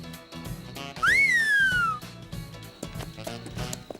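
A single loud whistle sweeps up in pitch and then glides slowly down over about a second, standing out clearly above a busy cartoon background of music and effects.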